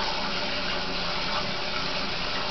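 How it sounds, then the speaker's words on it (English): Water sprays steadily from a bottle to wet natural hair before swimming, a close, even hiss that continues unbroken throughout. "So, I'm wetting the hair."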